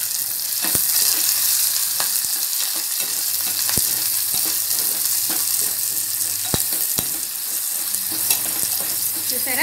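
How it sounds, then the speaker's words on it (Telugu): Onion pieces and green chillies sizzle steadily in a pan for mint upma, a continuous loud frying hiss with occasional sharp clicks of a spoon against the pan and no talking. "చూసారా మంచిగా వేగిపోతున్నాయండి చక్కగా"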